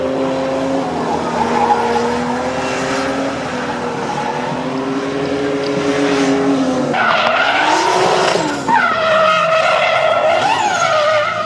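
A 350-horsepower BMW E36 drift car slides at high angle around a French championship circuit, its tires squealing loudly in long sustained wails while the engine howls, with a sharper shift in pitch partway through as the car transitions.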